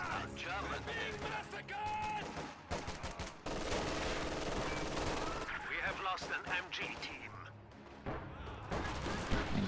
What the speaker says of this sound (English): Gets a burst off on those riflemen.